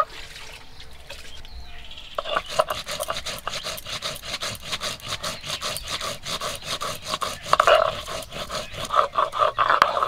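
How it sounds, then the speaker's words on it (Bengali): Whole cumin seeds ground by hand on a grinding stone in a village kitchen, a rhythmic back-and-forth rasping scrape that starts after a short pause and continues steadily and close by, with faint birdsong behind it. "গোটা জিরা বেটে নেব।"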